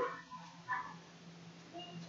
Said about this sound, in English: Trying to get my dog out, but he won't go outside.